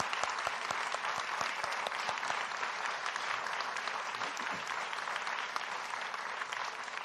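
An audience applauds the Democratic and Republican candidates at a Kentucky gubernatorial debate, a steady, even roar of many hands with individual claps standing out near the front, sustained for the whole stretch.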